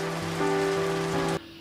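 Steady rain hisses under a soft sustained musical tone, then both cut off abruptly just before the end.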